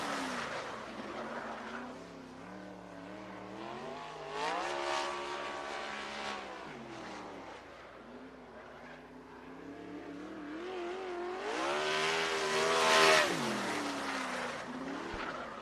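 Sprint cars on the Western Sprint Tour at Sunset Speedway Park, engines rising and falling in pitch as they pass through the turns, moderately distant and swelling louder toward the end.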